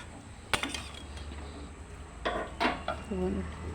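A metal lid is set onto a cooking pot in a home kitchen, giving a sharp clink followed by a second clattering contact and faint rattling against a quiet room hum.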